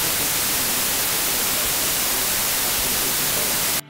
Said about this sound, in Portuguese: eu vou colocar um ruído branco para cobrir a minha fala